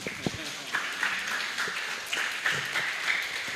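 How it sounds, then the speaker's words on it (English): An audience applauds for a delegation at a Model United Nations award ceremony, the clapping fairly faint and scattered beneath a continuing voice. "Give a round of applause to Argentina."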